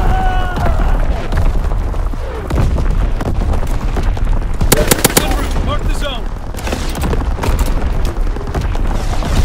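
Primary battery guns firing in the Call of Duty WWII video game: heavy booms mixed with rapid machine-gun bursts and scattered gunshots, loud and dense, with a brief cluster of sharp cracks midway and game voices in the background.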